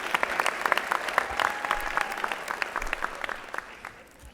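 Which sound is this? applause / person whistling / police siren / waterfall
applause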